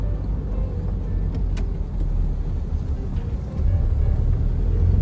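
A Peugeot 205 car drives along with a steady low engine and road rumble heard from inside the cabin, constant and fairly loud, swelling slightly toward the end.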